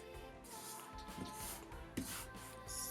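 Sheets of paper rub, crease and rustle up close as they are folded toward the middle, with a few soft sharper creases and no talking.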